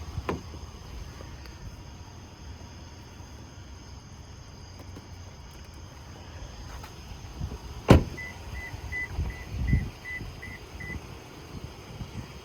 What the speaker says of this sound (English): That's just the truck letting me know that I have the fob on me.